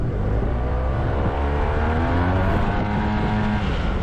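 Yamaha T-Max 530 scooter fitted with a Malossi Hyper Racing Over Range kit revving, a steady loud close engine drone with rising harmonic tones and no talk.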